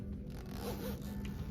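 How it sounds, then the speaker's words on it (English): A jacket zipper is drawn upward using the small hook of a dressing stick, giving a steady close rasping zip that runs through the whole stretch with no talking. "If you're having trouble with getting your zippers up"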